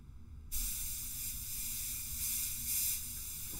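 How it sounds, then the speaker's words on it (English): A steady, hissing spray starts abruptly after a brief pause and continues without a break, fine and airy like compressed air misting liquid. "put some more water through this and just make sure that it is spraying well here"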